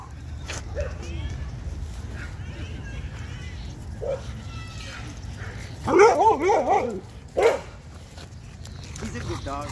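Dogs bark at a dog park, including a cane corso and a rottweiler, with a burst of several close barks in the middle and scattered yips and whimpers around them as people talk nearby.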